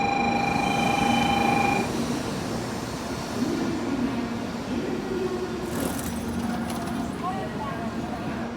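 Busy Shinkansen platform at Hiroshima station: a loud high tonal whine and rumble of train equipment at first, then a steady mix of station noise, clattering footsteps and announcement chimes, with people talking throughout.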